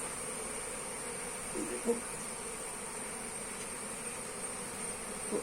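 Honey bees at an open beehive during beekeeping, a low, faint, continuous buzz that fills the background, with brief soft knocks and rustles and no clear speech.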